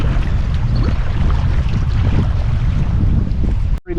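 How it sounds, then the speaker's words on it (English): Strong wind of about 20 miles an hour buffets the microphone on a breezy river stretch during kayaking, a loud, constant low roar with gusty swells that continues throughout and cuts off abruptly at the end. "20-mile-an-hour winds."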